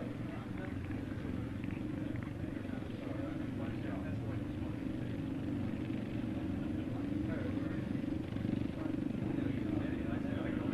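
Motorcycles from a Royal Hong Kong 29 transport display team ride through a turn in a bumpy arena, a steady low engine rumble and purr that holds throughout, with a commentator talking over it.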